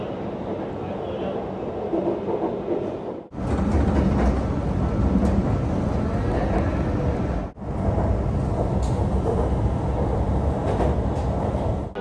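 Loud, steady rumble of a Hanoi light rail metro train in motion, heard from inside a carriage, with two brief dips in the noise as the ride continues.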